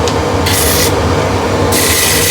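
Sanding a large woodturned base on a lathe with 180 grit, a steady loud rubbing hiss over the spinning hum, growing brighter in two bursts where the paper presses harder.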